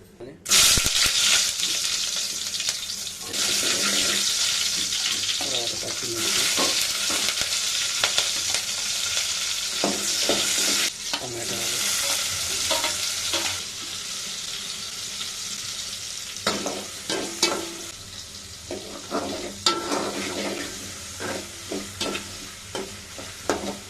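Ground paste of coconut, half an onion and coriander leaves frying in hot oil in a pan, a loud continuous sizzle with frequent stirring scrapes throughout, no voices.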